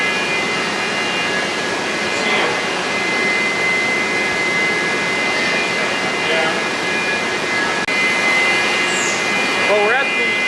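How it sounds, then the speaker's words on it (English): A CNC machine cuts wood blanks for electric guitars in a guitar-making shop, giving a loud, steady broadband roar with a constant tonal whine, with a few higher squeals near the end. "we're at the CNC machine. As you can tell, it's a little bit noisier in here"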